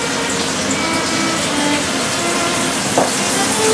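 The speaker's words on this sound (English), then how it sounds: "It's sizzling away." Minced keema sizzles in a hot pan, a loud, steady hiss of frying that runs continuously throughout at close range.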